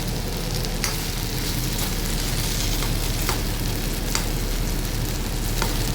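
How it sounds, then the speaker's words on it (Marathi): Okra (bhendi) frying in a pan over low heat, with a steady, continuous sizzle and crackle and a few sharper pops scattered throughout, close and even in loudness. "चार ते पाच मिनटं भेंडी शिजवून घ्यायची मंद आचेवरती"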